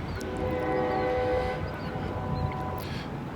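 A freight train with a caboose rolls past, a steady low rumble of rail cars under a sustained, fairly distant horn tone that fades out midway, with no voices.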